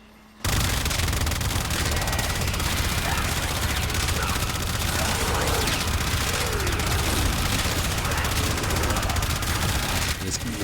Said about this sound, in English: And now we have a minigun.